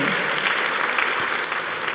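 Church congregation clapping together at a Friday evening sermon, a steady, dense wash of applause that fills the room from start to end with no voice over it.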